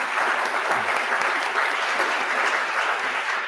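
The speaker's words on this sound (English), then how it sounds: "So give a round of applause again for the panel." A conference audience at an annual state-of-nonprofits event applauds the panel, a dense, even wash of clapping from a roomful of people that stays steady throughout.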